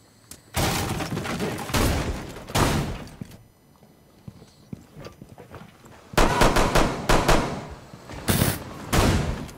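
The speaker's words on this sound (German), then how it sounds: "wie schießt der denn?" Bursts of gunfire in Rainbow Six Siege, loud rapid volleys separated by a quieter gap, firing close and harsh with dense repeated shots.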